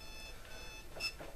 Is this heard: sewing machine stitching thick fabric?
no